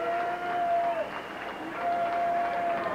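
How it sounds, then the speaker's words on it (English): Ice hockey fans in an arena cheer and applaud after an overtime goal in a minor-league game, a steady roar of crowd noise with a sustained whistle-like tone, continuous throughout. "the fans are starting to respond and let the Fury know how much they appreciate the effort"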